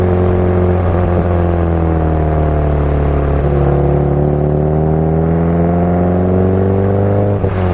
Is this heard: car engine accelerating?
yes